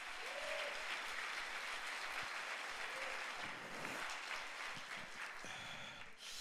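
A church congregation at a Sunday worship service breaks into applause, a sustained patter of many hands clapping at moderate distance, with faint voices mixed in and the clapping thinning slightly toward the end.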